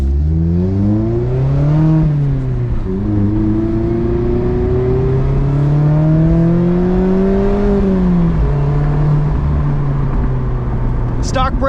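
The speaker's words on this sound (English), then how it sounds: "all Miatas with an exhaust sound the same, and they all sound fantastic" A 2024 Mazda MX-5 Miata Grand Touring with an aftermarket exhaust pulls hard on a track, the engine note climbing through revs and dropping at each shift, loud and close, with voices talking over it.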